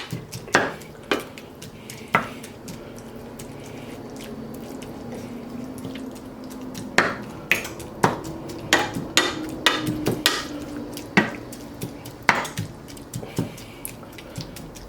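Ground meat being tossed and broken up while it browns in a pan for tacos: scattered clanks and scrapes of a utensil against the pan over a soft sizzle, grouped in busy bursts with short pauses between.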